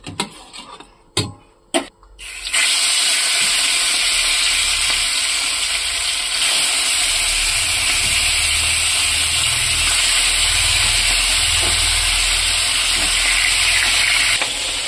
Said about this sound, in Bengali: দেখো আমার মাছ ভাজা হয়ে গেছে প্রায়